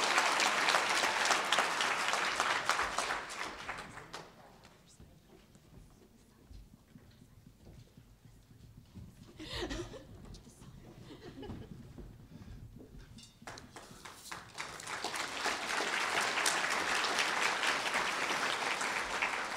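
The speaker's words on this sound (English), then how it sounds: "So please, can we have some applause for them?" Audience applause at a horror-writing awards ceremony, a loud crowd clapping that fades away, leaves a quieter stretch with a few scattered claps, then swells back to full, sustained clapping at the end.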